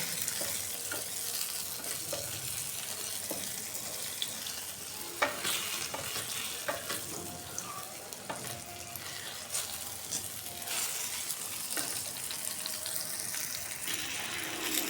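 Eggplant frying in oil gives a continuous close sizzle, with scraping and stirring clicks scattered throughout; no talking.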